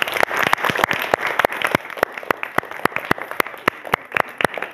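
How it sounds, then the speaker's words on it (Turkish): Clapping from a studio audience on a Kurdish TV series set: individual sharp claps ring out distinctly and fairly close, a loose, uneven rhythm of separate hand strikes rather than a dense roar, continuing steadily throughout. "kendiniz için güçlü bir alkış çalın."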